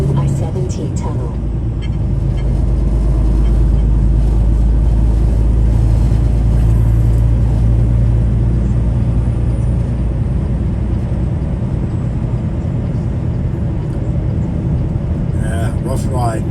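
A car drives through the Eisenhower Tunnel on I-70 in snowy mountains, with a loud, continuous low road rumble and hiss of tires that stays steady throughout.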